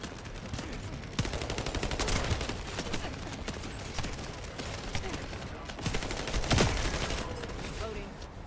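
Rapid gunfire bursts from a sci-fi looter shooter game, dense overlapping shots throughout with louder volleys near the middle and end, under a steady game soundscape.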